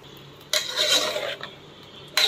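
Thinly sliced brinjals tipped into a pan of frying onion and tomato, giving two loud bursts of clattering and scraping with a softer stir between them, near and alone.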